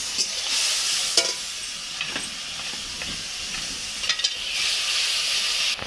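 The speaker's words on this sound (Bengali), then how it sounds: "সামান্য একটু জল দিয়ে মশলাটা আমি ভালো করে নাড়ব" Spice paste loosened with a little water and stirred in a pan, with a continuous wet sizzle and hiss overlaid by scraping strokes and a few sharp clinks of the spoon, close and without speech.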